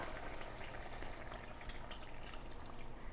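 A cup of water poured into butter chicken (murgh makhani) with cashews, a steady close gushing splash of liquid lasting a few seconds, heard alone.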